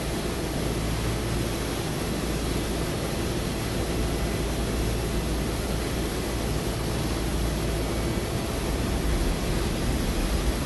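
A jet airliner engine starting up in a flight simulator gives a steady, broadband roar with a low rumble that holds at an even level throughout, with no talking.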